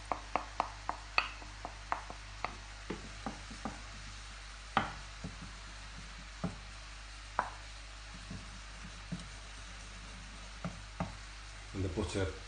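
Butter sizzles softly in a pan of orange sauce for crêpes Suzette, a faint steady hiss broken by frequent sharp clinks and taps of a utensil against the pan.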